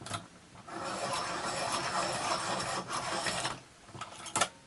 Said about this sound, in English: So I'm just going to sharpen up my whites